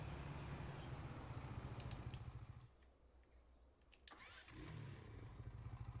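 A tractor engine in Farming Simulator 25 buzzes at a mid pitch like a small moped, running steadily, dipping briefly, then picking back up, fairly faint and without talk.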